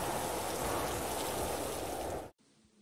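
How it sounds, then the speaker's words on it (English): Steady, soft hiss of heavy rain pouring down, continuous and even, then cutting off abruptly near the end. "pouring rain"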